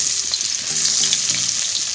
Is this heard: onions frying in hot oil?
yes